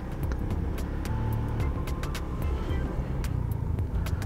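A motorcycle on a road with a vehicle overtaking, steady engine and road rumble with scattered clicks and rattles, continuous and fairly close throughout.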